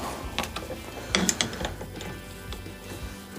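A hand ratchet snugging down a bolt on a 1965 VW 1200 40hp engine, with close, crisp clicking strokes in short uneven bursts.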